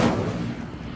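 A fire spell cast in a video game: a single sharp, booming burst that rings out loud at the start and then fades into a dense, crackling roar, with no voices.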